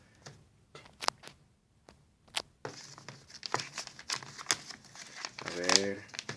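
Hands work one-handed at a crinkly wrapped package holding something like a pencil, with sharp isolated rustles at first, then denser crumpling and tearing close to the mic, and a brief voice near the end.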